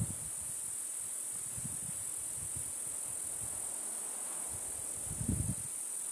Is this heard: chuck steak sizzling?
no